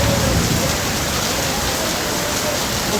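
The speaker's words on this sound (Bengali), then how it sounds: "এত প্রচুর পরিমাণ বৃষ্টি বুঝতে" Heavy rain pours steadily in Malaysia, a dense, unbroken roar of drops hitting surfaces, loud and close throughout with no pauses.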